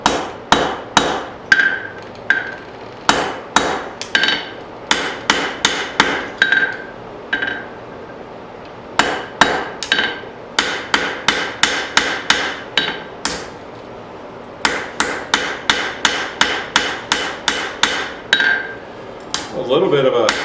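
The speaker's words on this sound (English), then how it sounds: "Most of the forging is done." Metal is hammer-forged from dug-up junk, with sharp, ringing hammer blows landing in quick bursts and brief pauses between them, close and loud throughout.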